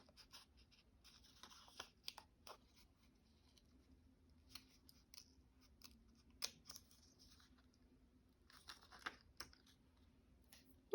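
Scissors snip a paper piece out for a spring craft journal in a quiet room: crisp, close cutting clicks in short clustered bursts with pauses between, soft and faint overall.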